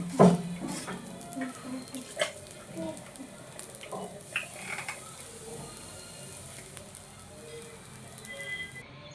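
Millet dosa batter spreads across a hot pan with a faint, steady sizzle and light scraping, heard close but quiet, with a few soft knocks near the start.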